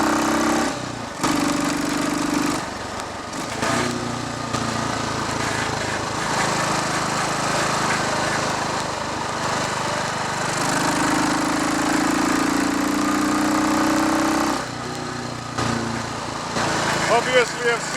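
Royal Enfield Bullet Watsonian 500T motorcycle running on a test ride, its single-cylinder engine thumping steadily with changes in pitch as it accelerates and eases off, with some talk over it.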